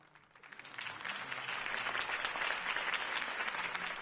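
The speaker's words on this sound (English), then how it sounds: "could have heard that applause" Applause from a crowd in a Batman video game swells from scattered claps into steady, dense clapping that continues to the end.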